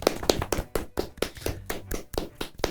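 A small group gives a round of applause at a festive tabletop role-playing session: quick, evenly spaced hand claps that go on steadily for a few seconds, with no voices.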